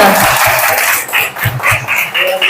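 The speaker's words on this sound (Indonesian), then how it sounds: "Tepuk tangan untuk semuanya." Applause from a crowd of teachers at a school gathering, a dense steady patter of clapping running throughout, loud and fairly close.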